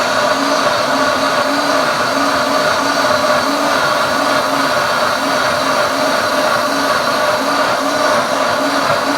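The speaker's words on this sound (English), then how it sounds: "this is my Vida Sana blender from Princess House" A Princess House Vida Sana kitchen blender runs steadily at full power, a loud continuous whirring drone with a faint pulsing rhythm and no pauses.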